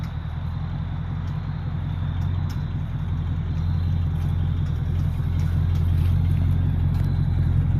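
An old shop truck, off the road for about 20 years, idles with a steady, smooth engine rumble throughout, loud and close with no talking.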